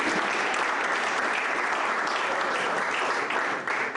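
Steady, dense applause from an audience at the investiture ceremony of a new association president, a continuous wash of clapping that holds evenly throughout and dips slightly near the end.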